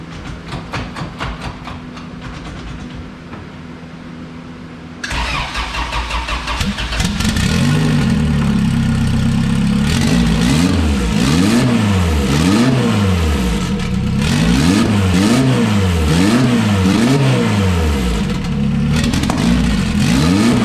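A car with a turbocharged J32 engine cranks with a rapid starter chatter, fires up, then is revved repeatedly in rising and falling sweeps, loud and close, with no talking.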